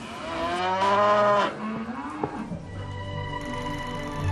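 Purebred Friesian cows on a Dutch farm moo in long, loud, close calls, one drawn-out low bellow followed by another deeper moo, with no talk over them.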